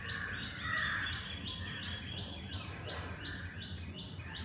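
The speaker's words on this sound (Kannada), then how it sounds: "ಈ ಚಿಲಿಪಿಲಿ ಸೌಂಡು" Birds chirp and tweet in a morning outdoor setting, a steady run of repeated short calls at moderate distance over a soft continuous background, with no voices.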